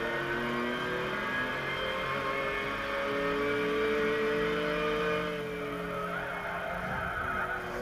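An Audi R10 TDI race car in Gran Turismo 6 pulls away in second gear, its engine note rising and sliding across several gears with a steady loud drone and a faint squeal near the end.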